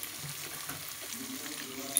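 Chopped bottle gourd and pointed gourd pieces go into a hot frying pan, giving a soft, steady sizzle with faint stirring clatter, close but quiet, with no talking.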